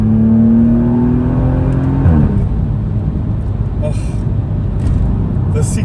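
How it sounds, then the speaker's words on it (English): A BMW M135i six-cylinder hot hatch revs and pulls hard, its engine note climbing then dropping with a gearshift before settling into a rough interior drone, while a voice talks over it and faint clicks come through. "First of all, what I like here is of course the 6-cylinder."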